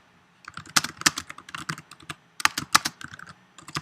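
Fingers type words on a computer keyboard in a quick, uneven patter of close, crisp key clicks with short pauses between bursts, and no talking.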